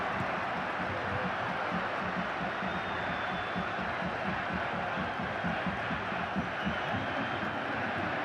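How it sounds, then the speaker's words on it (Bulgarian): Football stadium crowd cheering and applauding after a CSKA Sofia goal, a dense continuous roar of clapping and voices, with a commentator talking over it. "Радостни възгласи, но и множество аплодисменти"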